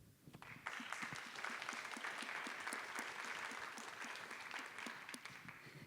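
Audience applause fills a film festival panel in the mountain craft genre, a steady dense clapping from a crowd that rises quickly after a brief quiet start and holds at an even level throughout.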